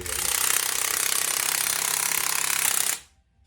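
Impact wrench working on the suspension bolts of a 2019 Dodge Charger R/T, one continuous loud hammering burst of about three seconds that stops abruptly, close by, with no talking.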